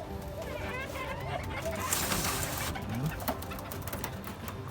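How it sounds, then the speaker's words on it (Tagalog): Soft pigeon cooing, low and throaty, repeated a few times amid background chatter and rustling. "Oh, tinig nyo yung kalapati natin."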